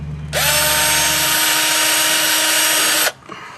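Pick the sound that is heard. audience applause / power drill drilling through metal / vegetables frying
power drill drilling through metal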